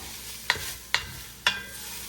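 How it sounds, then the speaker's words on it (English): Chopped onion being stirred in hot oil in a Dutch oven, a soft steady sizzle broken by three sharp scrapes or taps of the spoon against the pot, close and fairly quiet, with no talking. "I'm gonna dump the onion in here. I'm gonna coat it in the oil."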